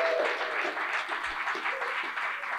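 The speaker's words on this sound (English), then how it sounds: "So a big round of applause for all your first rounders." An audience at a live talk on climate change claps in a steady, dense round of applause that holds evenly throughout without a break.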